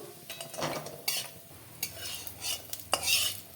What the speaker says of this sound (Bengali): প্রথমে বড়িগুলো ভেজে নেব